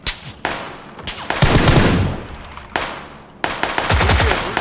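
Repeated bursts of automatic gunfire in the video game PUBG, several loud, close volleys separated by brief pauses, each burst a rapid rattle of shots.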